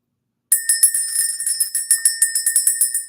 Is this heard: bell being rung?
yes